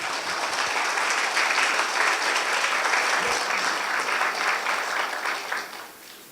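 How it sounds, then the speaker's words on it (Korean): Sustained audience applause welcomes Dr. Park Mun-ho at a convergence symposium lecture, a dense, even wash of clapping that holds steady before tapering off at the end. "박문호 박사님을 큰 박수로 모시도록 하겠습니다"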